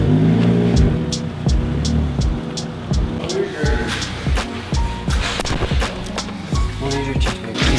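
A Toyota Supra's engine revs in short bursts after a power upgrade, loud and close, with a rumbling tone that rises and falls over an idle.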